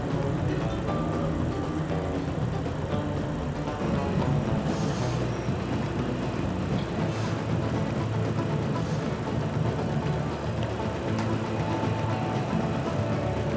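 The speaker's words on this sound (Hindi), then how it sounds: "ये बिल्डिंगों के साथ चलती हुई ये रेलगाड़ी जाती है" A train runs alongside city buildings, a loud continuous rumble of wheels and carriages with a few brief higher screeches, and no voices.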